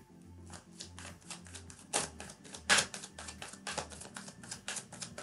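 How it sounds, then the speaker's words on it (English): Rapid riffling of a tarot deck being shuffled, several crisp bursts in quick succession, close and fairly quiet with no talking. "I'm gonna shuffle it up again"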